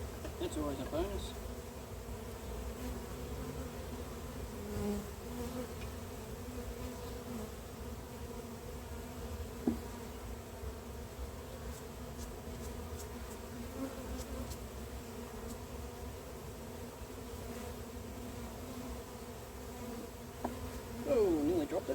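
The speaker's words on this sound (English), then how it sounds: "Ooh, now I'm covered in bees." Honeybees swarm and buzz steadily around an open hive during an inspection, a dense continuous hum close to the microphone, with a few faint handling knocks and no clear talk.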